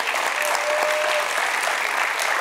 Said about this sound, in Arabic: ونحب نشكر بصفه خاصه الفرقة الموسيقية اللي فيها الأساتذة بقيادة الأستاذ خالد بن عيسى تصفيقة كبيرة